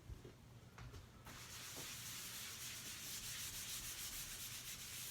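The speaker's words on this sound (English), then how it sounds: "So I'm going to take out an eraser. I'm going to erase this a little bit." An eraser rubs marker off a whiteboard, giving a soft, quiet, continuous scrubbing hiss that starts after a few faint taps and holds steady to the end.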